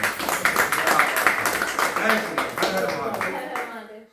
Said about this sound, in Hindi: इसलिए गुरुदेव के लिए एक बार ताली होनी चाहिए।